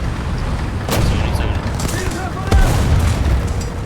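A 105 mm tank gun fires in War Thunder, sharp booming blasts near 1 s and 2.5 s over a constant rumbling battlefield bed, with a voice talking over the action.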